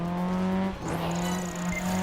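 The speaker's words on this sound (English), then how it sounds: "Yep, the car's drifting." Car drifting on an icy, snowy road in Project Gotham Racing 4, with a steady engine drone and a rising tyre squeal sweeping in partway through, continuing to the end.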